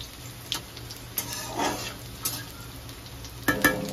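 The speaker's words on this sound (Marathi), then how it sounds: "एकदा आपण व्यवस्थित त्याला मिक्स करून घेऊया।" Chopped garlic is stirred in a hot pan, with a soft sizzle and a few scraping taps of a spoon against the metal. The sounds are sparse and moderately close.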